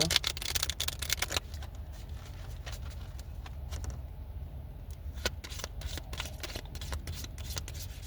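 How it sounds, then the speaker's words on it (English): Tarot cards being shuffled close up: quick riffling bursts at the start, then softer sliding and rubbing with repeated crisp flicks, no talking. "Let me just shuffle these up a few times more and we go pull"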